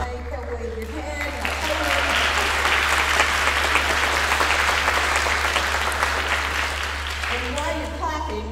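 Warm audience applause at a Marshall High School choir concert for two juniors swells and holds for several seconds, with a speaker's voice heard before and after it and a low steady hum underneath.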